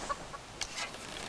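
A chicken in the survival game Subsistence gives a few faint, short clucks, quiet and somewhat distant, with no talk over them.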